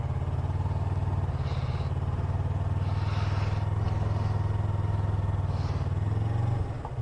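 A motorcycle idles and rolls through a slow U-turn from a stop without throttle, a steady low loud engine drone close by throughout, with faint scraping noises above it before the engine note drops at the end.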